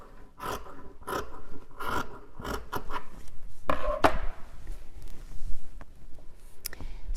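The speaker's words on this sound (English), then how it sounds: "And finish the cutting along the top edge of this design." Scissors cut through sweater fabric for a hat, a series of close, crisp snips and crunchy shears in irregular bursts, followed by softer rustling of the cloth.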